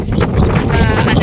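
Strong wind buffets the microphone on a long bridge near Bantayan Island at dusk, a loud continuous roaring rush filling the clip with no clear voices.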